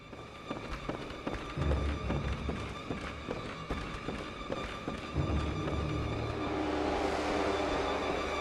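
Footsteps in the video game Bloodborne, a steady run of fast, evenly spaced thuds at moderate loudness over a dense, rumbling game ambience with other clanks and effects.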